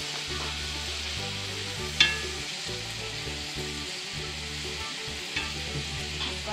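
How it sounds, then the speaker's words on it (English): Ginger and garlic sizzling in grease for Mongolian beef produce a steady, even frying hiss with a low background hum and one sharp clink near the start, heard close and without talking. "In the ginger and the garlic into the grease and sauteing them."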